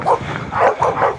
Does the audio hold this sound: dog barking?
yes